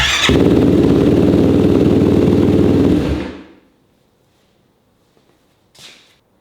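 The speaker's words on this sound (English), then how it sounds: "we're going to fire this customer's bike up and get him a quick video" A Yamaha YFZ450R quad with a swapped B&R cam, Empire exhaust and Vortex ECU roars loudly at close range for about three seconds, then shuts off into near silence with a brief faint noise afterward.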